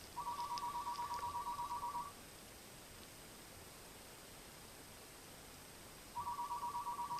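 An indoor telephone rings in two bursts, each about two seconds of warbling tone separated by a long quiet gap, faint over soft background hiss.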